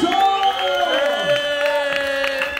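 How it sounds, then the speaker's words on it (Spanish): A crowd at a Halloween event cheering and clapping for contest winners, with shouting voices rising and falling over the noise, close and lively. "Aplausos para Antonio y la Macarena! ¡Aplausos"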